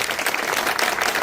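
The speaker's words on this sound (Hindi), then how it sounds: "भाई एक बार जोरदार तालियों से भाव का स्वागत करो।" A crowd at a local political gathering welcomes a guest with loud, sustained applause, a dense rattle of clapping hands filling the space with no pauses.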